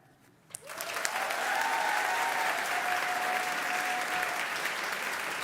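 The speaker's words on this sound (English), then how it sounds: "One more round of applause for all of our new faculty and staff." An audience at a school academic convocation breaks into applause for new faculty and staff, a dense, sustained clapping that swells quickly after a quiet moment and holds steady, with a faint voice trailing off at the start.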